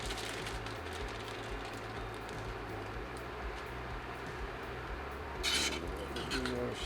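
A spoon stirs frozen green beans and corn in a soup pot, giving soft scraping, clinking kitchen sounds under a steady low background hum, with a brief sharper clatter near the end.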